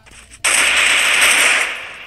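Sustained burst of SCAR-L assault rifle fire in a video game, erupting loud and dense after a brief quiet lead-in and rattling on continuously with no pause until it eases slightly near the end.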